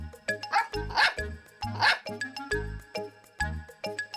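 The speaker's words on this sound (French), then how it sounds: "Snuffy aboya gaiement." Snuffy, a cartoon dog, barks happily in a quick series of bright, close yips and barks with a short pause in the middle.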